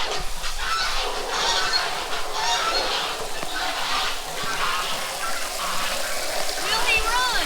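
Geese honk and cackle steadily throughout, a noisy flock fairly close, with splashing water and a person talking underneath.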